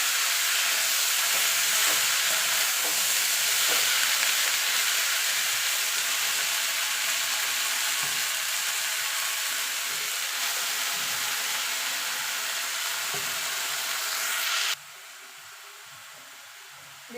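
Amaranth greens hit a hot pan with fried lentil dumplings, giving a loud, continuous sizzling hiss that holds steadily and then drops off abruptly toward the end.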